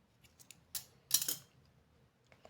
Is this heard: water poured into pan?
no